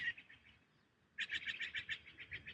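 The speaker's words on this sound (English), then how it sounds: "You get to hear all the birds just calling out and enjoying the quiet of the snow." Small birds chirp in quick repeated bursts, faint at first, then a brighter run of tweets after a brief lull, on a quiet snowy winter morning outdoors.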